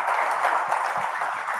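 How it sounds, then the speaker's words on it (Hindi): An audience at a live Agenda Aaj Tak event with cricketer Mohammed Shami breaks into steady, sustained applause, a brief, even burst of many hands clapping at moderate loudness. "तालियां तो हो जाएं।"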